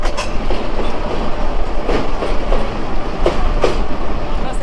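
A Narayanganj commuter train pulls into Shyampur Baraitala railway station, its steady loud rumble broken by rhythmic clickety-clack wheel beats and brief metallic squeals, with dust rising along the track.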